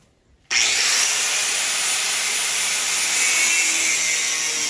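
A power tool grinding down a broken hood stud on a 1999-2004 Mustang hood starts abruptly after a moment of quiet, then runs as a steady, loud, close abrasive whine.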